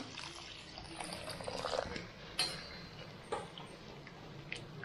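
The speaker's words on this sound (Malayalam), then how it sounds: "ഇതിലേക്ക് കുറച്ച് വെള്ളം ഒഴിച്ചു കൊടുക്കാം" A short, faint pour of water with light trickling and a couple of soft clinks, recorded close with no speech.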